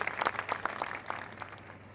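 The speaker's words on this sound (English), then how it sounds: "Big round of applause, Holly Lawrence" Applause from a small audience for triathlete Holly Lawrence at IRONMAN Hamburg European Championship race coverage, a couple of seconds of scattered hand claps at moderate distance, fading slightly toward the end.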